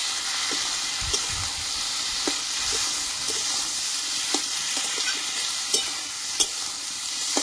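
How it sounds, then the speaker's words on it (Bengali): Diced potatoes sautéing with turmeric powder in a pan for a fish-oil curry, a steady close sizzle broken by scattered scraping stirs, with no one speaking. "দিয়ে আরো আমি 2 মিনিট মতো এইভাবে আলুটাকে কষিয়ে নেব"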